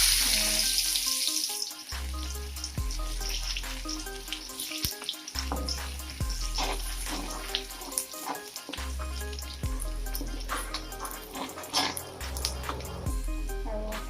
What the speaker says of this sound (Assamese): আৰু একেখিনি তেলতে মই পিঁয়াজ দি দিছোঁ।